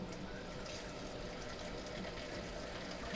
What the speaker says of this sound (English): We want to have a decent flow of water coming through here.